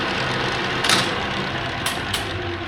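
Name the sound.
Clausing Colchester 13x36 lathe running in high gear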